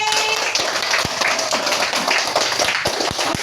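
Classroom pupils clapping hands during an Islamic religious studies lesson, a scattered burst of claps with a few sharp distinct hand strikes standing out, moderately loud, with faint murmuring behind.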